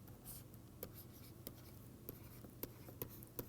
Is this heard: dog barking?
no